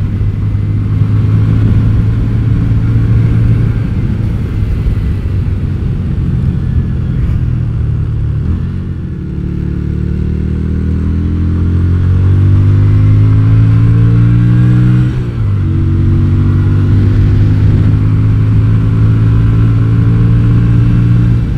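A Yamaha Virago XV250 motorcycle with a 40-tooth rear sprocket rides a test lap, its engine droning loudly and steadily, accelerating through gear shifts with pitch climbing after each change, no voices.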